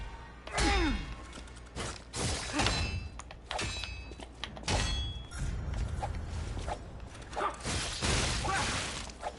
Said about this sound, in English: Trying to break that weapon.